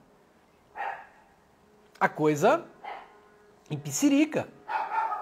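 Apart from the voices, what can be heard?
dog barking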